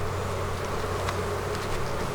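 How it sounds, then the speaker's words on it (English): Honey bees buzz at a hive in a home bee yard, a dense, steady drone that stays close and continuous with no talking. "They're buzzing. I can hear them."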